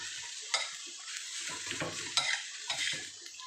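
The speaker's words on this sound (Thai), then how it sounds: "ก็คือผัดกะเพราวุ้นเส้นนะจ๊ะ ใส่หมูสับใส่พริกแห้งจ้า" Minced pork with holy basil, dried chili and glass noodles being stir-fried, with a steady close sizzle and several sharp clatters of a spatula scraping and tossing in the pan.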